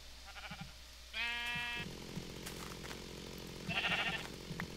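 Sheep bleating in a Minecraft-style video game, several short synthetic bleats in quick succession, clear and close, with game sound effects in between and no talking.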